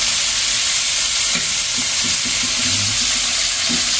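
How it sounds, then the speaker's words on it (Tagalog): Oil sizzles and hisses steadily as freshly caught fish fries in a pan, with faint scraping and stirring knocks partway through. "So prituin lang po natin yan."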